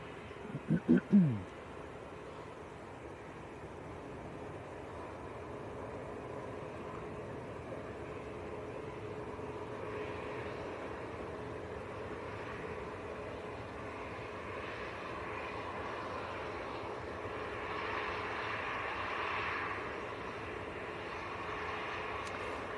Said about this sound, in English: KLM from Amsterdam, 737-800.